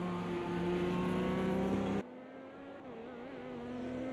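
A race car at full throttle on the Barcelona circuit in an endurance racing game, a loud, steady high-pitched engine whine that cuts to a lower, quieter engine drone midway, then climbs again.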